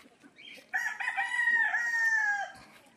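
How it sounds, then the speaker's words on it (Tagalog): A gamefowl rooster crows once at a hillside game farm in Bucayab, Bauang, La Union, a clear, fairly close drawn-out call over quiet rural background. "Puro manok lahat yan."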